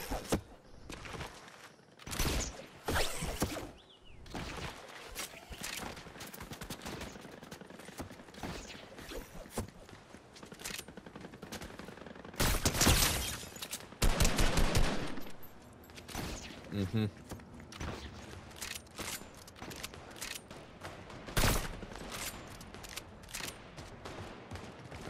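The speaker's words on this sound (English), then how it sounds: "I hear more shots this way" Gunfire in the video game Fortnite, bursts of shots near and far, some in rapid fusillades, with footsteps and mechanical clicks in between and players talking over the action.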